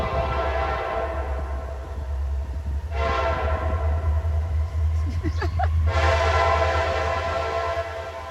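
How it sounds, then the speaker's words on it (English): A train rumbles past near a wooded hiking trail on the Pinhoti Trail in Georgia, a steady low rolling roar with a loud horn blast sounding twice, close and dominant. "There's a train on the trail."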